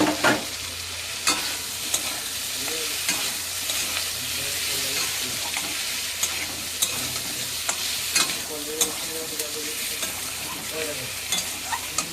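Fried potatoes being stirred into a sautéed spice masala in a pan, a steady sizzle of frying under repeated scraping and clinking strokes of a spatula, close and continuous.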